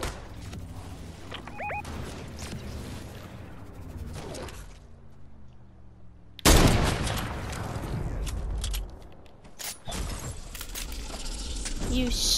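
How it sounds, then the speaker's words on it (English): Sniper gunfire in a video game: sudden sharp bursts of shots and crashing impacts, loud and close, mixed with game sounds and a player talking over them. "Did someone just snipe at me?"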